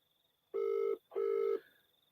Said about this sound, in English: Oh, yes, it is ringing.